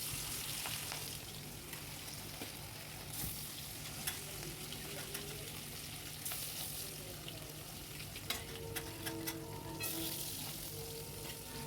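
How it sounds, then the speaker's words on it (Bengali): Pieces of katla fish frying in hot oil for a doi katla curry, a steady dense sizzle with occasional sharper crackles and pops throughout, close and continuous with no talking. "4 পিস মাছ আমি দিয়ে দিয়েছি তেলের মধ্যে।"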